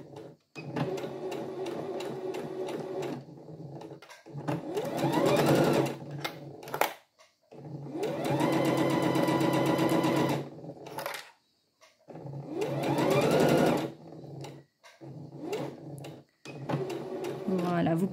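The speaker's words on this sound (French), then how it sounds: "je vais coudre en ligne droite tout le long" A sewing machine stitches bias binding in a straight line, whirring in long steady runs with short pauses between bursts, close up, its mechanical clatter continuous through each run.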